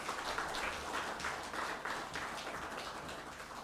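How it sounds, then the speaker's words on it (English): Audience applauding at a regional health assembly in the Acholi sub-region after a presentation, a steady, dense wash of many hands clapping that holds evenly through the whole stretch without any talk. "Let's give him a hand clap"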